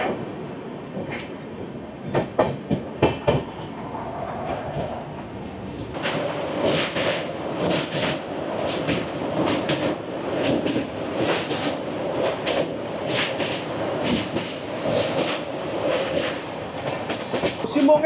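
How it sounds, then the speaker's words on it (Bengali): The Sealdah–Bikaner Duronto Express rolls through Asansol Junction without stopping, heard from on board: a steady rumble with rapid rhythmic clatter of wheels over track joints building after a quieter start, loud and continuous. "আমাদের ট্রেন এই মুহূর্তে পার করছে আসানসোল জংশন।"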